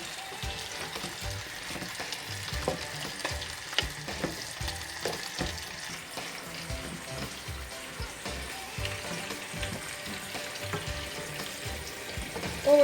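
Steady sizzling and crackling of potatoes frying in a pan, with occasional stirring scrapes, fairly quiet and close.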